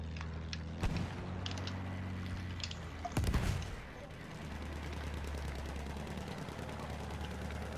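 Bursts of machine gun fire from a gunner in Battlefield 1 crack out twice, briefly at first and then in a heavier, longer volley, over a steady low engine rumble and scattered battlefield noise.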